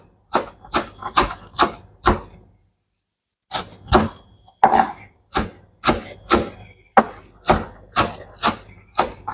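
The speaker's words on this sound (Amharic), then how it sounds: "ይሄ ድንብላል ቅጠል እንደዚህ ከትፌዋለሁ" A knife finely chops dill leaves on a wooden board in crisp, evenly spaced strokes. A short run of cuts is followed by a pause, then a longer steady series of close, distinct chops.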